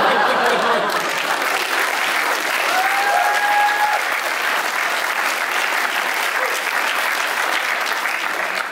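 A German stand-up comedy audience breaks into mid-show applause, loud sustained clapping with a few chuckles mixed in, filling the room evenly before tapering at the end.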